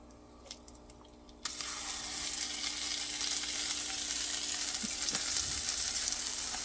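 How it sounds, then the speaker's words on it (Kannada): Masala paste for matar paneer hits a hot pan after a quiet moment and breaks into a sudden, loud, steady sizzle of frying that carries on close by without letting up. "ಈಗ ನಾನು ಆ ಪೇಸ್ಟನ್ನು ಹಾಕ್ತೇನೆ"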